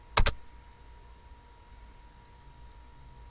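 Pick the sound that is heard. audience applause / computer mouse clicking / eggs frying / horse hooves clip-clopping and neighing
computer mouse clicking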